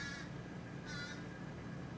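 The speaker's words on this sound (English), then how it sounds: "I apologize for all the crows." Crows caw outdoors, two short harsh calls spaced under a second apart, somewhat distant against steady background noise.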